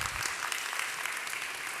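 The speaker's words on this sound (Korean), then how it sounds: "또 우리 귀한 말씀 전해주신 우리 소장님께 다시 한 번 더 박수 부탁드리겠습니다" Audience applauding at a Korean church service for newcomers, honoring a director after a lecture, a dense, steady wash of clapping from many hands that holds evenly throughout.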